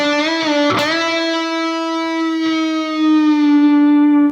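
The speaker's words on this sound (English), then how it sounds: "And here's a few bend shapes played in a row." Electric guitar plays a few string-bend shapes in a row, a loud sustained note bending up and down with a sharp pick attack early on, the pitch gliding smoothly and holding alone without talk.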